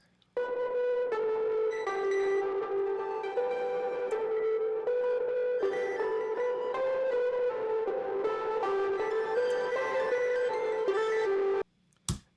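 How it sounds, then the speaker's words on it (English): A bright melodic synth line carrying the final part of a pop track's chorus, steady notes playing alone for about eleven seconds before cutting off, with a brief blip at the end. "the final part of the chorus is this synth"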